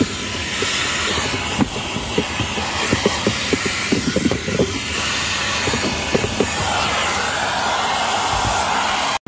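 A vacuum cleaner sucks dirt from the cabin filter housing of a 2016 SEAT Alhambra during a service; a loud, continuous hiss and roar runs throughout, with rattling bits of debris drawn through the nozzle.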